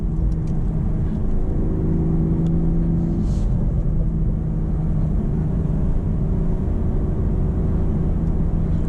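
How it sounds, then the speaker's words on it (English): A 2025 BMW Z4 M40i manual sports car's engine and exhaust drone steadily with a deep, throaty rumble, as if heard from inside while cruising, with a faint tick or pop now and then. "You do get some pops and bangs from the exhaust."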